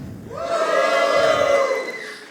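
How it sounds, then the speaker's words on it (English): Men in a science slam audience at Berlin Science Week give a sustained crowd cheer, a lower, rougher roar of many voices that rises, holds for about two seconds and fades out. "Now all the men in the house, give me a cheer."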